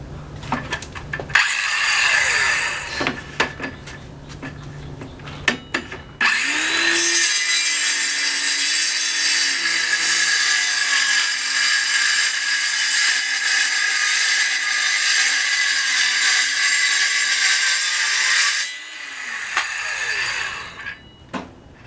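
A Shopsmith saw cuts through a sheet of plywood for a cabinet side, a loud, sustained high-pitched whine and rasp lasting about twelve seconds, bracketed by shorter workshop clatter and bumps before and after.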